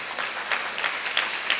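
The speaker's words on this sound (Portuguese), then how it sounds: "Bem forte as suas palmas para Jesus" Church congregation clapping for Jesus during a sermon, a short steady burst of dense applause with faint rhythmic swells, moderately loud and close.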